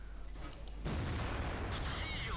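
Tank gunfire in World of Tanks: a heavy boom bursts in after a quiet moment and rolls on with a rumbling tail, fairly close and loud.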